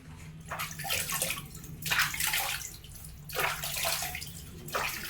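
Water splashes and runs over a stone grinding slab as it is rinsed clean, coming in several loud bursts of pouring and sloshing with short pauses between them, close by and with no talking.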